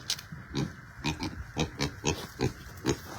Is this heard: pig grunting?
yes